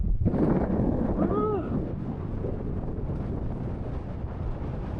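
Strong wind blows outdoors in Australia, a steady broadband roar buffeting the microphone throughout, with a brief tonal cry near the start.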